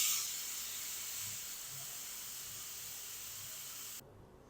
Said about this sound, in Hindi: अब हम जो कुकर का प्रेशर है वो सारा हम निकाल देंगे।